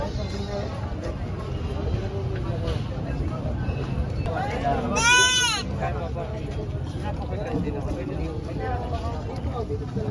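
A single goat bleat rises briefly over a busy, noisy livestock market crowd with constant chatter and background rumble, in Garcia, Batangas.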